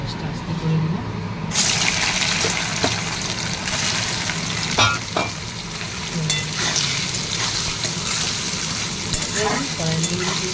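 Soya chunks frying in hot oil in a pan, a steady loud sizzle that carries on through the clip, with clinks of stirring heard now and then.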